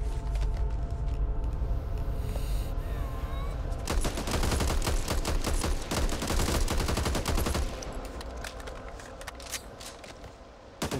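Heavy, rapid gunfire in the Back 4 Blood video game, a dense sustained fusillade that dominates the middle before easing into scattered shots and game noise, with no voices.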